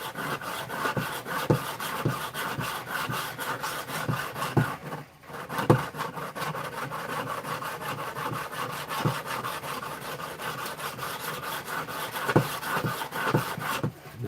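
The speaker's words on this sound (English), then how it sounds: "Now I'm using 200 grit to get an edge started here." A knife blade edge is worked with 200 grit abrasive, giving a steady run of rhythmic, raspy back-and-forth strokes, close and moderately loud, with a brief pause partway through and no talking.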